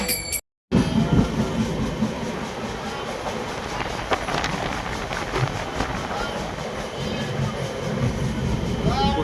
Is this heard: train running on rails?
yes